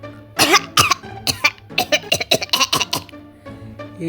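A storyteller voices a sleepy ghost character coughing, a close run of several rough, uneven coughs and throat-clearing bursts performed by a human voice imitating the sound.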